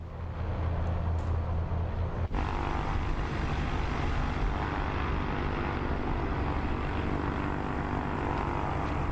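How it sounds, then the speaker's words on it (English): A Piper Dakota propeller engine in Microsoft Flight Simulator 2024 runs at takeoff power with a loud, steady droning roar. A brief knock sounds early on, then the engine holds a constant, close hum. "I love the way how this engine sounds."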